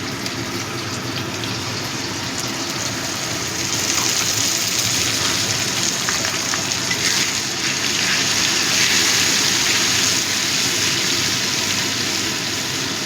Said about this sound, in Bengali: মিক্সিং জারটা ধুয়ে আমি দিয়ে দিচ্ছি।